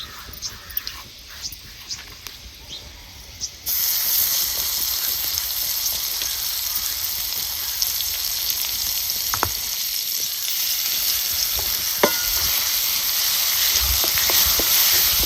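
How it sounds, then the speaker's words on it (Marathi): Finely ground chutney frying in hot oil with fried garlic for methi bhaji, a quiet start giving way at about four seconds to a steady loud sizzle with occasional crackles and stirring clicks. "चांगली ही चटणी आपल्याला तेलात भाजायची"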